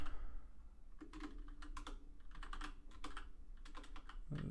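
Someone types JavaScript code on a computer keyboard, with quiet, uneven bursts of key clicks close to the microphone and no voices.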